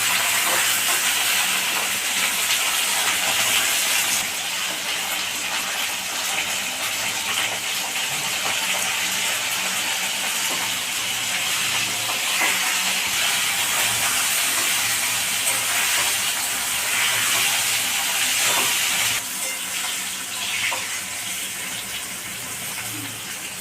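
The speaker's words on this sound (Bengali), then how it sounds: "এবার আমার ঢেঁড়স ভাজা হয়ে গেছে" Okra (bhindi) fries in a pan with a loud, steady hissing sizzle that holds for over twenty seconds, dipping slightly near the end.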